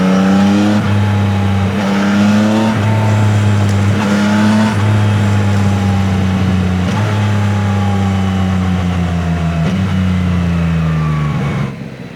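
A Yamaha motorcycle engine with its stock exhaust, heard close and loud as it accelerates through several gears, each rising whine dropping at the shift, then fading slightly at the end.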